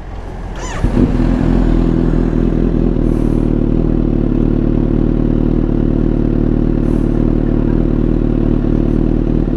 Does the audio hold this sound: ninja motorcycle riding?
yes